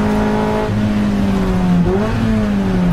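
Toyota MR2 race car at Donington Park, heard on board: a loud, steady engine drone that dips and climbs through a gear change mid-clip, then holds high revs, with no talk.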